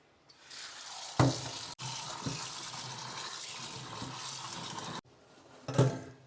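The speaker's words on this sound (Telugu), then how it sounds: "దీన్ని మనం బాగా త్రీ ఫోర్ టైమ్స్ బాగా వాష్ చేసుకోవాలి సో వాష్ చేసేసుకుందాం రండి" Raw cashew nuts swished and rinsed in water in a home kitchen, a steady splashing wash broken by a couple of sharper sloshes and clunks, close and alone with no talk.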